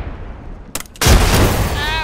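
Gunfire in the video game Apex Legends: a brief crack, then a loud, dense burst of shots that keeps going as a heavy, sustained roar to the end.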